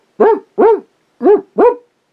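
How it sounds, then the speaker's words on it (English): Small dogs bark four times close and loud, two pairs of sharp yips separated by a brief pause, with no other sound. "And I brought my dogs, Junior, Max, and their friend, Chewy."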